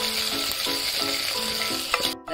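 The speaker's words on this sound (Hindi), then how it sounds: "ऑयल हमारा गरम हो गया है, अब हम इसमें लहसुन का पेस्ट डाल देंगे।" Garlic paste sizzles loudly in hot oil in a pressure cooker. A steady frying hiss runs throughout, with a regular pulsing tone and a short clatter near the end.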